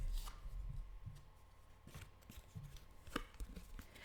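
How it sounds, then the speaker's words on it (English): A deck of playing cards being handled and shuffled, giving soft papery riffles and flicks at intervals over a faint steady hum, with no voices. "I literally just picked up the deck and then a card just flew out as I picked up the deck to shuffle it"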